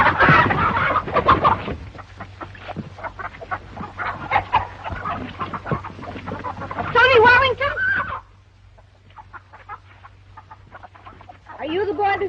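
Chickens cluck repeatedly in an old classic Western film, with busy rhythmic clucking and squawks close by, mixed with people talking and a steady low hum. A brief quieter stretch follows before the clucking and voices return.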